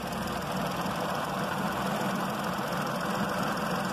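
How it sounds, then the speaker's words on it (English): A 2015 VW Polo engine idles steadily with its air-conditioning compressor engaged, producing a continuous close, even running drone with no voices. "the noise of the engine has changed slightly. So the compressor unit has kicked in"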